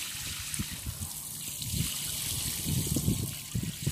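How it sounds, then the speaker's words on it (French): Water pours and trickles steadily onto freshly spread potting soil over endives planted in open garden ground, a close, continuous wet splashing with small irregular bursts throughout. "Bon, j'arrose."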